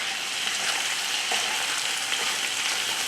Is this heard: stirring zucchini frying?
yes